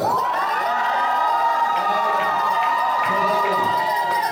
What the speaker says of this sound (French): si tu es béni, tu pousses des cris de joie.